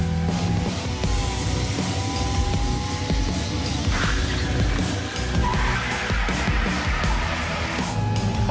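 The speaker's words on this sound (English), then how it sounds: "Here we go with the world's quietest burnout." A car does a burnout, its tires spinning on pavement in a steady, loud screech with engine noise that carries unbroken from start to finish, with no talking.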